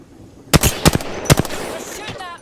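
In Horizon, a handful of sharp, loud gunshots crack in quick succession at close range in the game, followed by quieter metallic sounds and a lingering hum.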